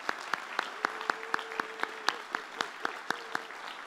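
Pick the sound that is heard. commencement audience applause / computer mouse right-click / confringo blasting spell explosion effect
commencement audience applause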